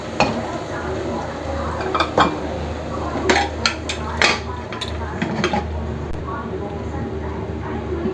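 A spoon scrapes and clinks against a cooking pot as garam masala is stirred into a desi chicken gravy, with several sharp metallic taps and scrapes over a steady background hum.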